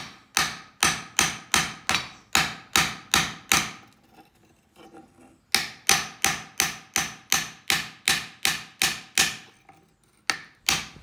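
Rapid, loud hammer blows rivet a nail through the spike of a homemade goedendag, struck in two long, even bursts of about a dozen strikes each, split by a short pause, with one more blow at the end.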